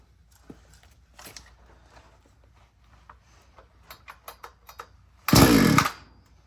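A chainsaw with no primer is cold started, choke out and switch on: faint clicks and handling noises, then a few quick pulls before the engine catches in one loud, brief burst and dies away.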